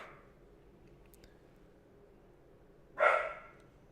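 A dog gives a single sharp bark at a distance, breaking a stretch of faint room hum with no one speaking.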